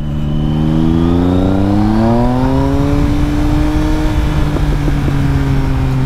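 A Triumph Speed Triple 1050 S three-cylinder motorcycle with a GPR Furore Nero 4 lowboy exhaust revs up steadily. Its engine note climbs in pitch through the gears, loud and close throughout.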